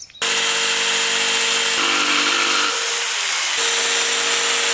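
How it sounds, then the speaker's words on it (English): Electric drill with a metal bit boring into the steel bodywork of a Land Rover Defender camper conversion, a loud steady whine lasting several seconds with slight pitch shifts as the bit bites, close up with no talk. "This time I've got my metal drill bit and it's getting used."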